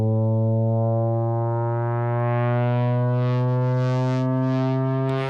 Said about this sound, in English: let's give it an attack so the pitch will change over time